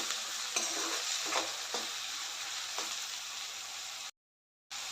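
Onion and tomato softening in hot oil in a pan, a soft continuous sizzle with a handful of light scraping stirs, fairly quiet, with a brief full silence near the end.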